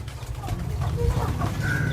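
Pigeons in a loft on a sunny morning, soft close cooing and clucking notes over a low rumbling background.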